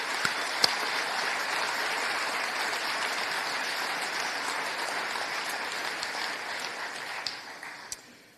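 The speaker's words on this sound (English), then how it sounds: "Please, a round of applause." A large audience at the opening of a fire and rescue event claps for international guests, a loud, even wash of applause held for several seconds and slowly tapering at the end, a few sharper claps standing out.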